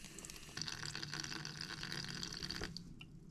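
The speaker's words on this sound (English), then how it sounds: "let's get these little guys some water real quick" Water poured from a container onto dry potted flowering plants, a steady close-up splashing hiss that runs for a few seconds with no talking.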